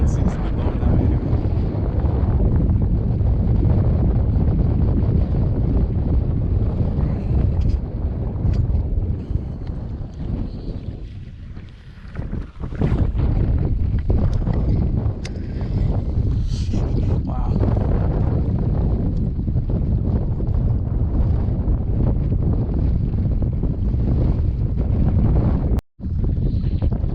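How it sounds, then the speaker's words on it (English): Steady wind buffets the microphone beside a lake at Lake Hemet, a loud, continuous rushing roar with a few gusty swells and one brief dropout near the end. "Wind seems to be blowing that way anyway."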